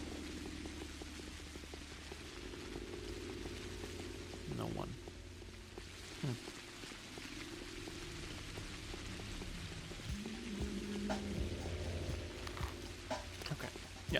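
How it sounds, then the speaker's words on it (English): Steady rain falls on the streets of a town in the video game Pathologic, a constant hiss with scattered drops and splashes under low game ambience, while someone speaks briefly. "And the rain won't stop."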